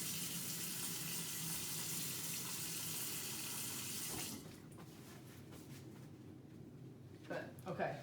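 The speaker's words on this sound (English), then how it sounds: "Before I start, I'm going to wash my hands." Hands washed under a running tap at a sink in a clinic exam room, steady water hiss for about four seconds, then the flow stops and quiet handling noises follow.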